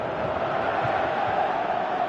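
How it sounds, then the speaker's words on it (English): Stadium crowd noise during a Champions League group match in the football game PES 18, a steady broad roar of cheering fans with no clear peaks. "Crowd appreciates good football all round there."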